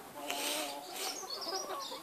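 Backyard hens kept with ducks, geese and a goat in a farmyard, giving short, faint clucks and squawks at close to middle distance, scattered over a soft background.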